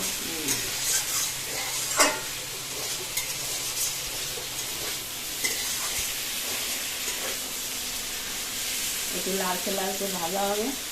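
Pointed gourd (parwal) frying in oil in a pan, a continuous hiss and sizzle with occasional stirring knocks, and a voice speaking briefly near the end.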